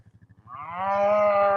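Cattle mooing beside a hay bale in a pasture, a single long, loud, close moo rising after a few soft rhythmic thumps.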